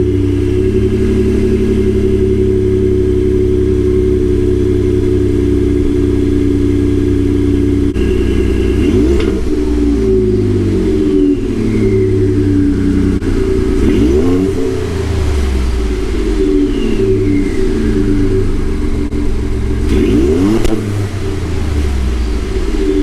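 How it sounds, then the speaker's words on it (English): A Ford F-150 with the 3.5 EcoBoost engine and a resonator-delete exhaust revs loudly and close by, several throttle blips rising and falling over a steady idle rumble. "I'll go ahead and give y'all a few revs too, so y'all can kind of hear the exhaust."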